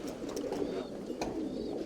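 Tumbler pigeons coo softly in a loft, with low rolling calls under a steady, busy background of other birds.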